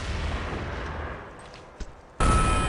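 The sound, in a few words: grenade explosion and gunfire in a video game match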